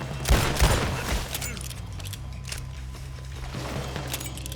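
Gunfire in the Red Dead Redemption 2 video game: a few sharp shots burst out early, then a low rumbling game soundscape carries on with scattered fainter impacts.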